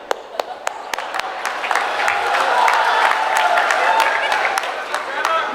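Crowd applause at a political speech by a Chief Minister, a steady wash of clapping that builds in the middle with a few sharp claps on top, heard at a distance.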